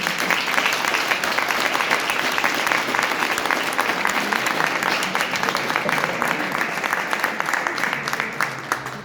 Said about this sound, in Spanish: Recibámoslo por favor con un fuerte aplauso.